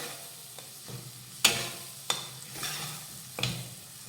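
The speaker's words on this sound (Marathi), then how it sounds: "आता मिनिटभरासाठी हे आलं लसूण पेस्ट ह्या कांद्यासोबत व्यवस्थित परतून घेऊयात" Ginger garlic paste sautés with onions in a pan for Khandeshi shev bhaji, a soft steady sizzle with a few distinct scrapes of a spoon stirring, close and without talk.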